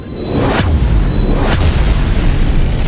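Atomic bomb explosion sound effect: a heavy, deep rumbling boom with low crackling bursts and rolling thunder-like roar, loud and continuous for a few seconds with no voices.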